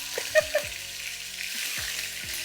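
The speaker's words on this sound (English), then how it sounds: "So all of the chicken pieces will go into the pot. And you get the sizzle" Steady sizzling of chicken pieces frying in a hot pot, a bright crackling hiss with a few soft clinks of a utensil against the pan.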